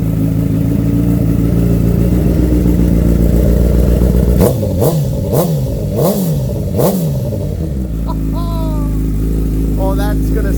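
2015 Honda CBR 1000RR sport bike fitted with Two Brothers exhaust pipes, idling loudly then blipped through several sharp rising-and-falling revs before settling back to a rumbling idle, with people talking over it.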